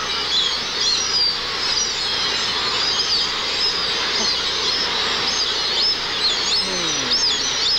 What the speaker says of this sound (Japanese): 全部オオミズナギドリです。